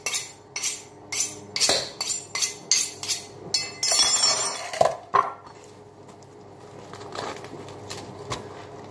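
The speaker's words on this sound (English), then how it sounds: "I'm going to sharpen the knife quick" A kitchen knife is sharpened with a quick run of about eight rhythmic metallic strokes, near and clear, followed by a few scattered clinks and scrapes of utensils.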